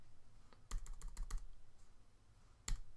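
Quiet computer keyboard presses during photo retouching, a quick run of several close, soft clicks followed by a pause and one more click, with no voices.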